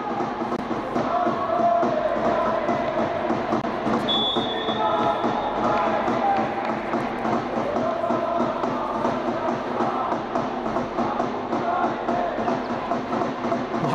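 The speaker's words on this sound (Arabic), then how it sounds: "سامعين طبعا اصوات الجماهير اللي بتأذي فريق النادي الاهلي" Crowd of fans at a women's volleyball league match in Egypt, a steady dense roar of voices and chanting filling the hall, loud and continuous throughout.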